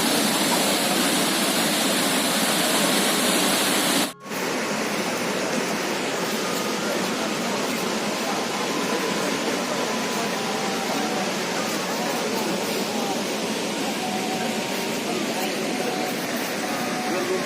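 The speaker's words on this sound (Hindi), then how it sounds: "तो ये था चित्रकूट वाटरफॉल, इंडिया का नायग्रा वाटरफॉल भी इसे कहते हैं।" The Chitrakoot waterfall in Chhattisgarh, India, roars as a constant, dense wash of loud rushing water that fills the whole scene without a break, with one brief dropout near the start.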